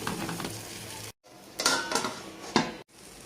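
Seven eggs sprinkled with black pepper being stirred in a pan: a few scraping, clinking strokes of a utensil against metal in short bursts with brief pauses, close and moderately loud.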